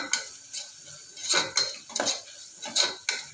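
A spoon stirs and mixes in a cooking pot with oil frying, making repeated metallic scrapes and clinks in an irregular rhythm over a light sizzle, close and clear.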